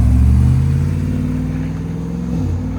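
Deep, steady rumble of a 2018 GMC Sierra Denali 6.2L V8 with a cam, long tube headers, no catalytic converters and closed Valvetronic muffler valves, revving loudly at close range, easing slightly, then rising again near the end.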